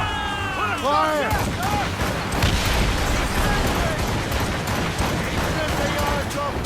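Ship cannons fire during a naval ambush in Assassin's Creed Rogue: heavy booms and crashing blasts over steady sea noise, while voices shout orders through the barrage.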